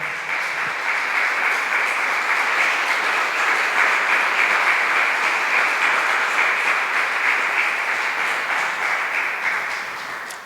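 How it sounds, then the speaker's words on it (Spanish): A church congregation applauds steadily and loudly for about ten seconds, a dense unbroken wash of clapping that tapers slightly at the end. "Denle un aplauso al Señor."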